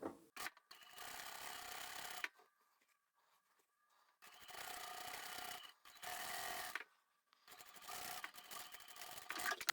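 A sewing machine sews a straight quarter-inch seam across the lining of a zippered pocket on a drawstring backpack, heard in several short bursts separated by quiet gaps, fairly close and without talk.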